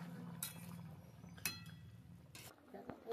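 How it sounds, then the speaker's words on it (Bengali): A metal lid lifted off a cooking pot of simmering taro, giving a few faint, separate clinks and taps over a soft background hum. "চাপাটা খুলে দিচ্ছি, আমার হয়ে গেছে।"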